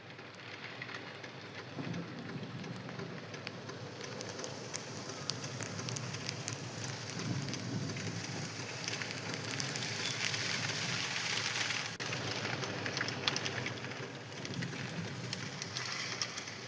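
Heavy rain pouring down in the Belagavi and Chikkodi area, a dense continuous hiss and patter that swells in the middle and eases slightly toward the end, with no voices.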